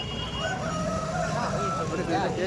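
A native Andhra-breed rooster crows once nearby at a rural poultry market, a wavering drawn-out call amid clucking fowl and faint background voices.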